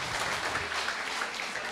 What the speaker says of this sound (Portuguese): Vamos aplaudir o Leo Homem.